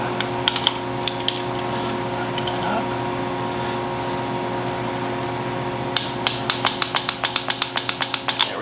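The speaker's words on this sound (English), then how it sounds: "And now I'm going to torque that down." Ratchet tightening a rear shock bolt on a 2013–2020 Ford Fusion, with a few scattered clicks early on and then a fast run of sharp, close ratcheting clicks near the end over a steady mechanical hum.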